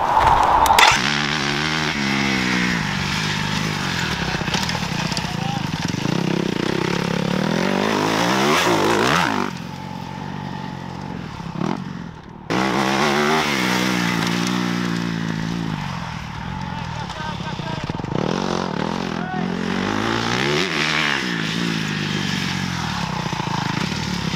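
A motocross bike engine revs hard and rises in pitch, drops off briefly, then screams up through the gears again, loud and close, at a motocross school.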